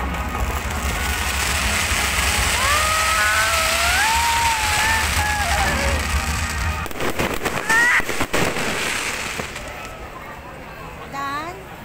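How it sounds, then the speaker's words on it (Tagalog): Bursts of fireworks crackle and pop over a steady background hum at Sentosa, with thin whistling tones rising and people talking and reacting in between. "Fireworks na, guys."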